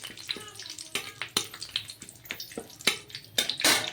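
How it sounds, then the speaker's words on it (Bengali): Two bay leaves fry in hot oil in a pan, giving an uneven stream of crackles and sharp sizzling pops, fairly quiet and close, with no talk over it. "তেজপাতাটাকে ভালো করে একটু ভেজে নেব যাতে তেজপাতার গন্ধটা তেলের মধ্যে ছেড়ে দেয়"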